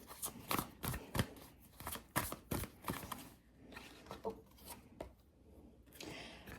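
A deck of oracle cards is shuffled close by in quick, papery riffles and slides, a run of rhythmic bursts that loosens into softer, irregular rubbing.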